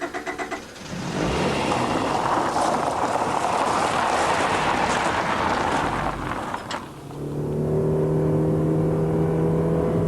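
A Honda Civic VTi driving on the road, its engine rising in a loud continuous rush of acceleration, dipping briefly around a gear change, then settling into a steadier hum near the end.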